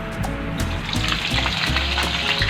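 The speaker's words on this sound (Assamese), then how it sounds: "মাছটো অকণমান ফ্ৰাই কৰি লওঁ।" Fish fries in a hot pan with a continuous close crackling sizzle, punctuated by low thuds and pops.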